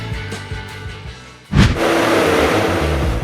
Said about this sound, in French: Le tracteur tracte l'équipement avec une puissance de traction parfaitement